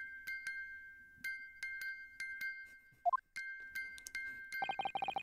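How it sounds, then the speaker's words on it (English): A music box in the video game The Great Ace Attorney plays a sparse, delicate chiming melody of single plucked metal notes against a faint steady tone, with a brief winding sound midway and a rapid trill of notes at the end. "Let me wind the music box at you."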